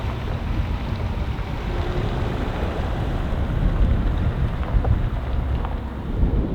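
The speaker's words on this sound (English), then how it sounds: "It's always windy, isn't it?" Steady wind roars across a farmyard, a dense low rumble of gusts buffeting the microphone without pause, loud and constant with no voices.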